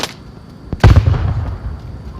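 A grenade explodes in a competitive video game match, one sharp, loud blast that decays into a rumbling tail after a brief quieter stretch.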